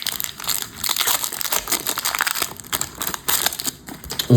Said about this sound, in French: On va ouvrir le quatrième booster.